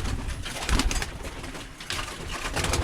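Birmingham Roller pigeons in a loft coo softly and repeatedly, close by, with soft rustling and a faint flutter among the birds.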